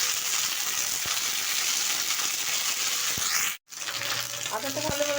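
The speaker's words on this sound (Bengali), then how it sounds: "আদাটা ভালোভাবে ভেজে নিয়েছি।" Crushed ginger frying in hot oil with panch phoron and chili, a steady close sizzle with a brief cut of silence partway, then renewed sizzling with light stirring clinks.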